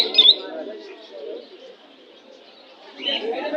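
Pigeons coo and chirp at a busy pigeon market in Jinjira, Bangladesh, with one brief sharp call near the start and a steady murmur of birds and market bustle that swells again toward the end.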